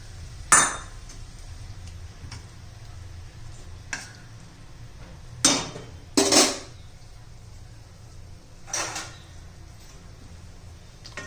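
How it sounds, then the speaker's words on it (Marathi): A metal lid set onto a pot of soaked moong dal cooking with water, giving a few sharp separate clinks and clanks spaced over several seconds against a quiet kitchen background. "त्याच्यावर झाकण ठेवूया"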